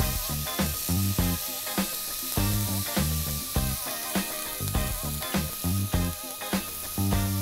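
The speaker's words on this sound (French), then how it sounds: "tu les mets dans une poêle sans aucune matière grasse" Duck breast skewers sear in a dry pan without any fat, giving a loud, continuous close-up sizzle with rhythmic crackling pops.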